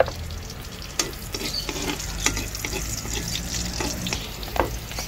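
Garlic frying in a pan with a steady close-up sizzle, with scattered stirring clicks and scrapes across the whole stretch and no talk.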